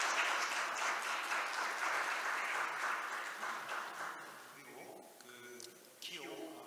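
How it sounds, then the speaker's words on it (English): Audience applause at an international IP court conference greets a judge, a dense steady clapping from a large crowd that gradually thins and fades toward the end. "please welcome him with a big round of applause"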